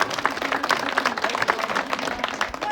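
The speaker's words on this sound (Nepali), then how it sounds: "जोरदार ताली बजाइदिनु होला।" An audience at a rural municipality ceremony applauding steadily for an official, a dense close clapping that continues evenly throughout.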